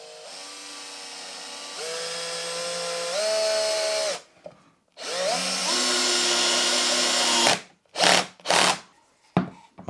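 A power drill drives a screw into a wooden workpiece, its motor whining and rising in pitch as the screw bites, pausing briefly, then running again before a few short final bursts.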